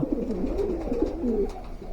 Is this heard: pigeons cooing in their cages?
yes